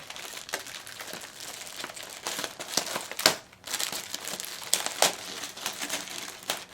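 Plastic bag crinkling and crumpling while a Mad Catz MLG Pro Circuit controller is unboxed, close and continuous rustling with sharper crackles and a brief pause midway.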